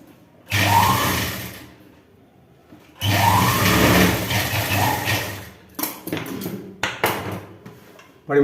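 A sewing machine stitches a chudi in two long, steady whirring runs, followed by several short stop-start bursts; close and loud, with no talking.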